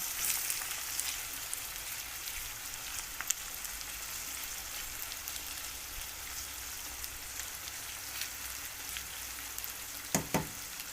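Chopped onion sizzles steadily in a glass of odorless oil, a constant crackling hiss with a couple of sharper pops near the end.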